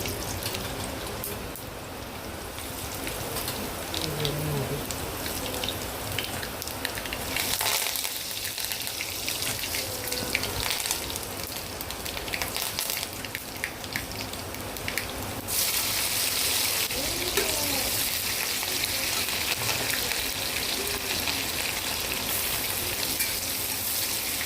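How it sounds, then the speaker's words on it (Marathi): Cumin, mustard seeds, curry leaves, green chilli and onion sauté in a little oil in a kadhai, a continuous close crackling sizzle that grows brighter and louder partway through, with no talking. "कढईत आपण थोडेसे तेल टाकून घेऊया आणि त्यानंतर जिरे, मोहरी, कढीपत्ता, मिरची आणि कांदा चांगला परतून घेऊया"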